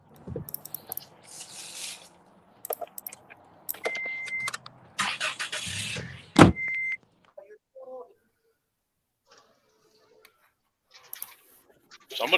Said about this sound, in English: Somebody started their car.